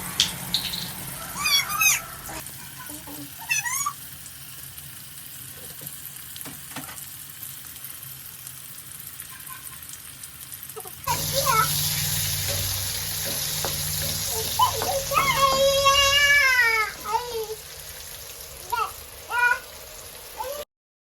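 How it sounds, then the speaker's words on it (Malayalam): Sliced onions frying in oil in a pan, a steady sizzle that grows louder and fuller partway through, with clinks of a stirring spoon and short bursts of tap water early on. "നമുക്ക് അതിലേക്ക് ലേശം ഓയിലൊക്കെ ഒഴിച്ചിട്ട് അതിൽ വലിയുള്ളി ഒന്ന് ചോപ്പിച്ചെടുക്കാം കേട്ടോ"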